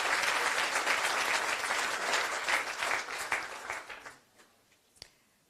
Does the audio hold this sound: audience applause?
yes